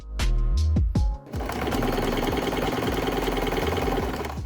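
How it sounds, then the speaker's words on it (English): Sewing machine stitching the opening of a quilted fabric tote bag closed, running loud and steady after a few brief starts and stops at the beginning. "And then sew the opening closed."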